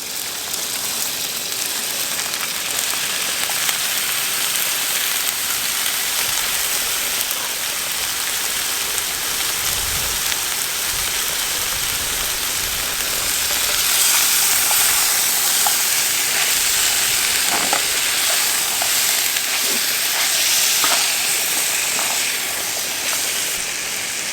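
Vegetables sizzle loudly in a pan over a small Firebox Scout folding wood stove, a dense, continuous hiss with occasional crackles that swells a little partway through, and no talk.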